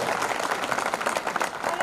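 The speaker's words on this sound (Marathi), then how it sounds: "टाळ्या वाजवून साहेबांसाठी जोरदार स्वागत चालू आहे" A crowd at a farmers' rally in Chandur Biswa gives dense, continuous applause welcoming a guest, a short burst of many hands clapping close by with a murmur of voices underneath.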